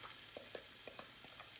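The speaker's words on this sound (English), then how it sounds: "You hear that sizzle?" Oil sizzles in a hot skillet as buttermilk cornbread batter goes in. The frying hiss is steady and soft, with faint crackles and pops, and no talking.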